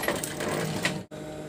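Sewing machine stitching the band onto a bed skirt, a steady close whirring run for about a second that cuts off sharply, then the motor restarts.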